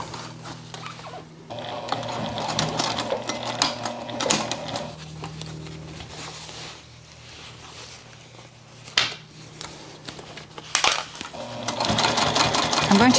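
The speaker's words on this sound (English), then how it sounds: "We need to sew right there on the top." A sewing machine runs in steady bursts of stitching through thick denim on a tote bag made from old jeans, with clear starts and stops and brief pauses between runs, the motor whir loud and close.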